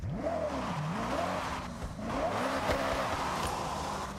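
A Koenigsegg driven in the racing video game Forza Horizon 6, its engine tone rising and falling continuously as it accelerates through gear changes, steady and fairly loud with no talk.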